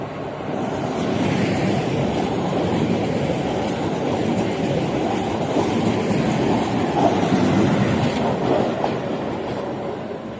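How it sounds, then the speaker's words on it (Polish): A Regio passenger train from Szczecin Główny rolls into a station platform, a sustained loud rumble with wheel clatter and rail noise that stays steady close by throughout. "Regia train from Szczecin Główny is arriving on track 2, platform 1"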